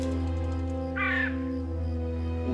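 A single harsh crow caw sounds from a bird in the video game Fairy Tale Mysteries, brief and clear over a steady low background hum.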